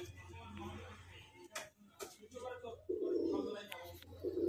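Madrasi and Giribaz pigeons coo in short, throaty bursts close by in a loft, repeating irregularly while someone talks over them.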